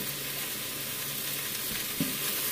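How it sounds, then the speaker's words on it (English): Chicken searing in a quick cooker gives a steady, moderately loud sizzle throughout, with a brief knock or stir near the end and no voices. "We're just searing it to get that little bit of color on there."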